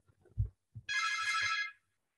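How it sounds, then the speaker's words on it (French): A home telephone rings in one sustained electronic trill lasting just under a second, following a few low thumps and faint voice fragments, then falls silent. "il y a le téléphone qui sonne chez moi en même temps"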